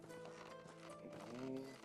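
Horse hooves beating rhythmically as a rider travels between villages in Medieval Dynasty, a steady quick clip-clop under a bed of game music, fairly quiet overall.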